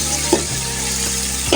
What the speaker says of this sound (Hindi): टमाटर के भुनने का मैं वेट कर रही हूँ